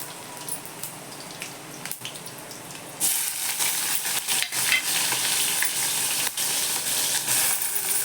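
Cumin seeds hit hot oil in a pan and erupt into a loud, bright crackling sizzle that stays steady for several seconds after a quieter opening.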